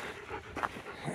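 A hiking dog resting during a stop on a steep mountain trail, giving a brief soft whimper amid quiet panting and breathing, close by with no talking.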